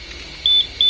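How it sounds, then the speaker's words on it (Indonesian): A Yamaha motorcycle's keyless remote answer-back buzzer sounds a pair of sharp, high-pitched electronic beeps in quick succession after a brief quiet stretch, loud and close. "remote-nya, buzzernya itu bunyi"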